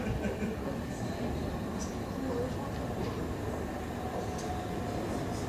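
Class 377 electric multiple unit, a long train, pulling into a station platform with a steady broadband rumble and rail noise throughout, faint chimes or squeals above, and a voice talking quietly underneath.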